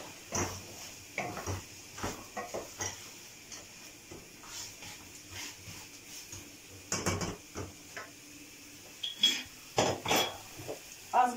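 Chickpeas tumble into a pot of onion and tomato paste for the Siirt dish gulolok, with scattered clinks and scrapes of a spoon against metal and bursts of stirring, close and fairly quiet.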